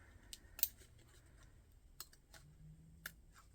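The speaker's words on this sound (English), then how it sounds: "That way I can get my scissors in there." Small scissors snip paper for a Halloween banner stencil, giving a few quiet, sparse, crisp clicks against a near-silent room.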